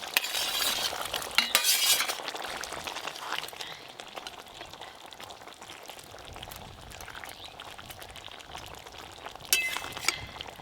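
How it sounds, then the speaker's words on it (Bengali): Fried eggplant pieces go into a simmering rupchanda fish curry and get stirred, giving a scraping, clinking stir with soft bubbling sizzle underneath, busiest at the start and again near the end. "এবার ভেজে রাখা বেগুনগুলো দেব।"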